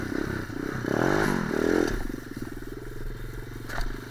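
KXD 612 Pro 125 pit bike revving hard in snow, the engine note rising and falling in strained bursts up close, with scraping and clatter before easing to a rougher idle.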